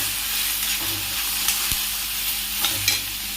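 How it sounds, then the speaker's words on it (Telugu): Onions and slit green chillies sizzling in hot oil for a brinjal tomato curry, with a steady frying hiss and a few soft scraping stirs of a spoon in the pan, close up and with no voices. "ఇలా ఉల్లిపాయలు వేసుకొని బాగా కలుపుకుంటూ లైట్ బ్రౌన్ కలర్ వచ్చే వరకు వేయించుకోవాలండి"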